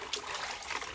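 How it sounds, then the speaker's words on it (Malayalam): Soapy cloth swished and rinsed in water while laundry is hand-washed at home village-style, a brief, faint watery trickle and slosh. "നന്നായി ഒന്ന് സോപ്പ് കളഞ്ഞിട്ട് നന്നായി ഒന്ന് പിഴിയുക"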